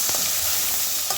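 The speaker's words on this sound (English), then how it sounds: "So I'll give this a stir." Beef pilau ingredients frying in a pot and being stirred, a steady close hiss of sizzling oil with soft scraping strokes, no voices.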